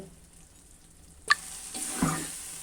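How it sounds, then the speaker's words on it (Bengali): A spoonful of ghee hits a hot pan of vegetarian banana flower curry with a sudden sizzle, followed by a soft stir and scrape, close and fairly quiet with no talk. "এখন আমি এক চামচ ঘি দিয়ে দিব"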